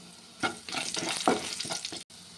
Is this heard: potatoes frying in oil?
yes